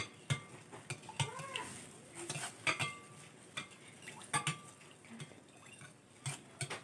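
A spoon stirs a soy sauce and ground pepper marinade in a bowl, close, irregular clinks and scrapes against the dish with soft swishing between them.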